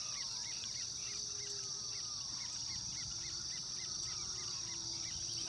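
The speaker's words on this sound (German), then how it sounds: "Das sind so viele Tiere hier in der Wiese drin. Frösche, Grillen." Frogs and crickets fill a meadow in Paraguay with a dense, continuous chorus: a steady high insect trill over repeated chirping frog calls, constant and moderately faint, with no voices.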